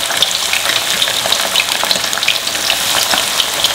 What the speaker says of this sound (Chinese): 锅里倒一点油，油温七八成热的时候下鱼块